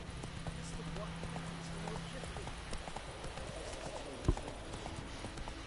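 A horse's hooves clip-clop at a steady gallop on a road in The Witcher video game, a continuous rhythmic patter under game music and ambience, with a sharp thump near the end.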